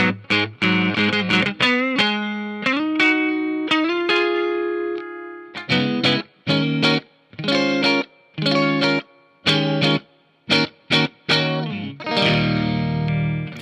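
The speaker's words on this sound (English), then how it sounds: "So as far as clean tones go, I mean, it's basically a Stratocaster." Clean electric guitar tone from an Ibanez Yvette Young Signature YY10 with Stratocaster-style pickup positions: sustained chords and ringing notes, then a run of short, sharply stopped strums with silent gaps, played close and clear with no talking.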